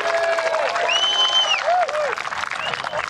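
A golf gallery at the 2024 Dubai Invitational applauds Tommy Fleetwood's holed putt, a broad wash of clapping and crowd noise with a few whistles and a commentator's voice running over it.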